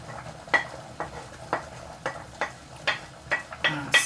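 Chopped meat and chicken being stirred into a pot of chickpea stew, a series of distinct scraping and clinking spoon strokes against the pot at a steady, unhurried rhythm, close and moderately loud.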